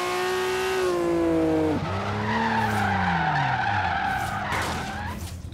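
A Nissan Skyline GT-R R32 drifting in Forza Horizon, its engine holding a steady high note while the tires squeal through a long skid, with the engine pitch falling and rising again midway.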